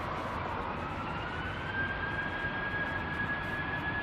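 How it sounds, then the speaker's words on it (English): A British Airways Airbus A320 departs runway 27 right, its engines producing a steady, distant broadband roar with a faint rising whine, continuous and unbroken. "BA Airbus A320s departing 27 right"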